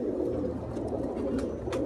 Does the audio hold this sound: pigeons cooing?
yes